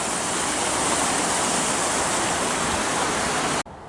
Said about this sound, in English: Actually some rapids.